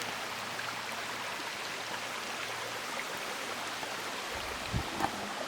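A woodland brook at a deer crossing on public land flows with a steady broadband rush, continuous and close, with a couple of soft thumps near the end.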